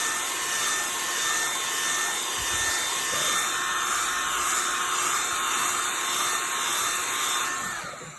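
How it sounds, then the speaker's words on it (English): A small travel hair dryer drying watercolor paint runs continuously with a steady whirring hiss and high motor whine, close and fairly loud, without pauses or talk. "I have this little travel hair dryer, and I'm going to dry my paint."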